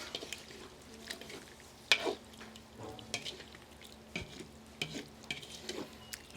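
Pork afritada being stirred in a pan outdoors, with irregular scraping and clattering strokes over a low simmer, several sharp clanks standing out, and no talk.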